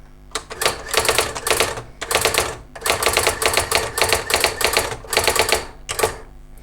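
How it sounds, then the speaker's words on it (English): A Brother AX-15 electronic typewriter types in steady close bursts of rapid key strikes, separated by brief pauses, loud and with no voice over it. "I'll just do a little bit of typing and then show you the spacings in a sec."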